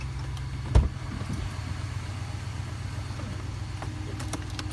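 A RAM pickup truck sits running after a remote start, giving a low steady idle hum close by, with a single thump near the start and a few faint clicks.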